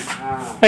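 A water buffalo lets out a brief, low moo close by, cut off by a sudden louder burst at the end.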